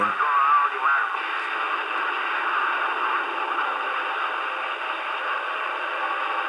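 Band-limited CB radio static on channel 19 with a dense wash of overlapping garbled transmissions and heterodyne whistling tones, steady and unbroken throughout.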